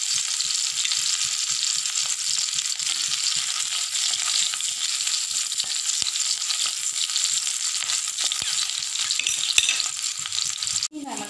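Orange peel frying in a pan of hot oil for pickle, a dense, steady, close sizzle with occasional stirring clicks throughout and a sharp clatter just before the end.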